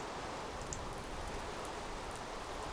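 Rainfall in a TerraFirma Minecraft modpack world, a constant soft hiss of rain pattering evenly throughout, fairly quiet and with no voices.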